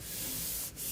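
A hand rubs the high-grade leatherette steering wheel of a Lexus LBX, making a soft, close, continuous friction sound with a brief dip near the end.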